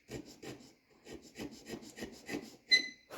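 A hand checkering tool rasps across walnut in short, rhythmic strokes, about a dozen quick scraping cuts in a row, close and quiet, with a brief whistling squeak near the end.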